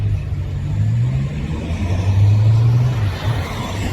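Green-wrapped BMW M5 in Zurich, its exhaust a low engine rumble that swells as the car passes at moderate distance and then fades slightly, with no talking.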